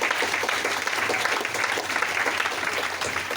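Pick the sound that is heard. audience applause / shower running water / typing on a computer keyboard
audience applause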